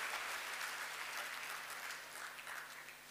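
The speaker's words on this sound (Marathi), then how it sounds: "टाळ्या झाल्या पाहिजेत." Sustained, even applause from an audience at a stage event, a continuous wash of clapping that fades slightly toward the end.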